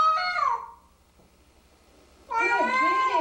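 A distressed cat meows loudly in two long, wavering cries during a bath, with a quiet pause between them and no talking.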